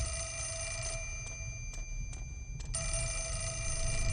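An old telephone bell rings in the Fatal Frame 4: Mask of the Lunar Eclipse horror game, a steady repeating ring that pauses briefly and resumes, set over a low ambient hum.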